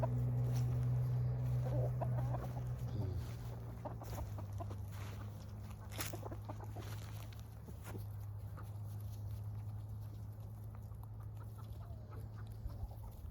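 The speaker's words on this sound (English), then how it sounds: "Like these two roosters over here, they just don't let the hens alone" Hens cluck softly nearby while a rooster gives a loud drawn-out call at the start, then scattered clucks and rustling continue at low volume.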